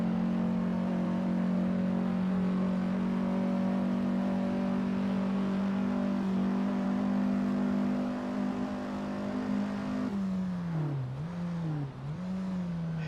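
A Ferrari Tipo 500 race car at Monza holds a loud, steady engine note from close by, then the pitch dips and wavers as it shifts up, with no voices.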